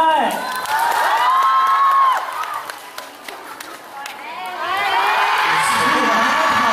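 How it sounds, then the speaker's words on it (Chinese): Fans at a Shanghai fan meeting for the drama Uncontrolled Love clap and cheer loudly for a guest's entrance, a sustained wash of applause and high whoops that dips in the middle and then swells again. "我们掌声有请小白"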